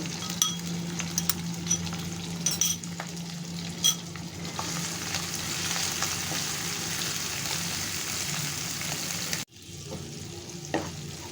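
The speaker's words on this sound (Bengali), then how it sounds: "এখন চিংড়ি মাছগুলোকে আমি ভেজে তুলব।" A steady, bright sizzle of turmeric-and-salt-coated shrimp frying in hot oil, with occasional clinks and stirring scrapes, cut off briefly near the end before resuming.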